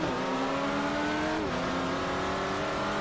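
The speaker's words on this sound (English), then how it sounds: "This car doesn't sound like it's got an engine. I know it's a diesel" A steady diesel car engine drone in Forza Motorsport 4 with a slowly rising tone, briefly dipping midway, continuous and fairly loud with no talking.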